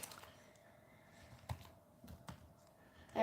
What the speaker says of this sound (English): I don't know why I was typing it.